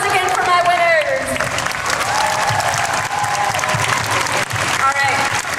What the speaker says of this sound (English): Round of applause again for my winners.